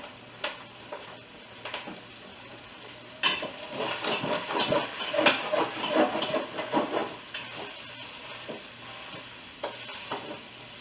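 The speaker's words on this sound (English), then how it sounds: "my ground beef's like popping and popping over there." Ground beef sizzling and popping in a frying pan while cooking conchitas, a steady fry hiss with scattered pops that swell louder midway, close by with no talk.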